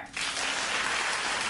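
Studio audience clapping, a steady dense burst of applause close by, no voices.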